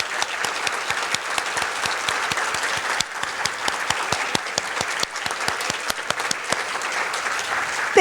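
An audience at a housing institute conference applauds to welcome the organizing team, a dense, steady clapping from many hands that fills the room evenly before ending abruptly.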